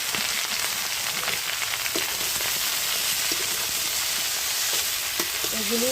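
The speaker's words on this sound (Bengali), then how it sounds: "চিংড়ি মাছ ভাজা হয়ে গেছে, দিয়ে দেবো হালকা লাল হালকা আলু।" Shrimp and potatoes fry in a pan with a loud, steady sizzle that holds for the whole stretch, broken by occasional stirring clicks.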